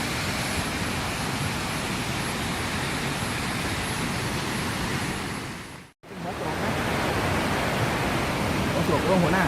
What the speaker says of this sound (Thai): น้ำตกวชิระทานค่ะลงจากเขาดอยอินทนนท์ลงมานะคะ